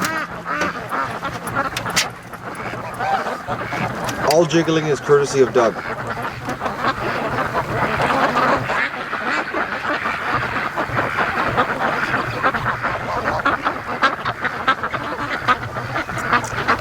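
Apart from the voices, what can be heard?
free-range ducks quacking on the lake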